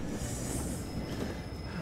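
A train in Train Simulator 2015 brakes with a continuous high metallic wheel squeal over a steady rumbling roar, loud and unbroken throughout, with no talking.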